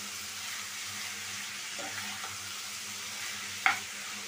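Turmeric and salt being stirred into vegetables frying in a pan, a steady soft sizzle with faint scraping strokes and one sharp utensil clink near the end, heard close with no talk.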